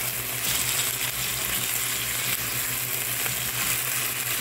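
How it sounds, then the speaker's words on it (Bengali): Chicken pieces with onion, garlic paste and ginger paste fry in a pan, a constant dense sizzle heard up close without pause and with no voices. "এখন পেঁয়াজের সাথে চিকেনটা একটু ভেজে নেব"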